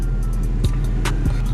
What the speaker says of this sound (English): I'm gonna let the car warm up